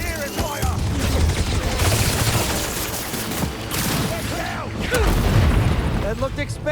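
Enemy gunfire in Marvel's Spider-Man 2, a sustained barrage of shots mixed with booms and mechanical clatter, loud and close, with a voice talking over the fighting.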